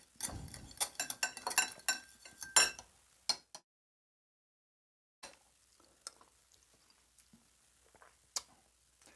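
Cocktail sauce with added lemon being stirred in a dish, a rapid run of clinks and scrapes for a few seconds, then a pause and a few faint, scattered taps.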